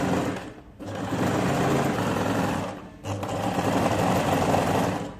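A sewing machine stitching a sleeve seam with a back stitch, running in steady buzzing bursts with a brief pause between them, close and fairly loud with no talking.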